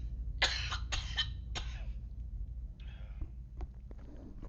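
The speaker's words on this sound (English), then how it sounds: "I'm sorry, I got to cough again." Several dry coughs from one person, with a few quicker bursts up front and a softer cough and throat sounds after a short pause, close and fairly quiet with no talking.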